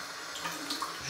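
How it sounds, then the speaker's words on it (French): A brief splash of water trickling into shaving lather at a basin, close and continuous for about a second. "Je vais rajouter de l'eau."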